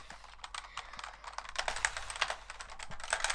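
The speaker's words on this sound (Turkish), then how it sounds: "O kadar hızlı X ve Z tuşuna basıyorum ki yani sese bakın." Keys on a computer keyboard hammered in a rapid, uneven flurry while playing Undertale, the X and Z keys struck repeatedly as dense close clicking that grows busier and louder toward the end.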